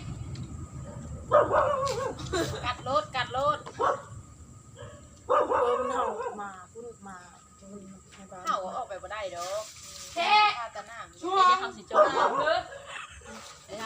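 A dog barks and whines in short bursts and clusters, near and fairly loud, while people talk nearby during a late-night meal.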